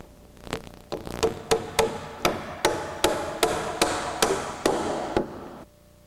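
Nails are hammered by hand to toenail a wooden floor joist into a sill plate during house framing, roughly a dozen sharp, evenly spaced blows that ring out close and loud one after another before stopping.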